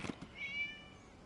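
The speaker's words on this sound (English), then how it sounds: "It was just a cat." A cat meows once in the game Genshin Impact, a short, fairly quiet call rising and wavering, heard alone without any talk over it.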